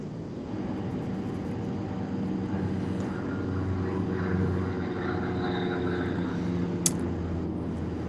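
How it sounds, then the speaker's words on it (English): A steady, low droning roar of an airplane passing overhead, continuous and fairly distant, heard indoors during TV capacitor work, with a single sharp click near the end. "It's you with the airplane going overhead."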